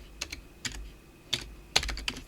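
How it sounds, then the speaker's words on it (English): Quick bursts of computer keyboard typing, close and quiet, with a handful of separate clusters of clicking keystrokes and short pauses between them, heard alone. "Listen to it. Keyboard ASMR."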